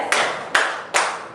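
Three sharp, bright claps in even rhythm ring out close by from a group of kindergarten children playing a counting clap game, each clap followed by a short reverberant tail.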